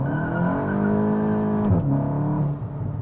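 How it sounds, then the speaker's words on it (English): A tuned VW Mk8 GTI pulls hard at full throttle in second gear, its loud, steady engine note climbing close up with a brief shift-like dip near the end and no talking over it. "I'm gonna do second gear right now and just pin it"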